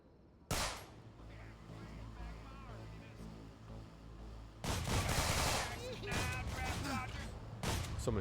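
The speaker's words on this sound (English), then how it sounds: "Someone's shooting you from behind." Gunfire from behind in Manhunt 2 on PS2, sudden loud bursts of shots that break over a quieter game background, returning in several volleys.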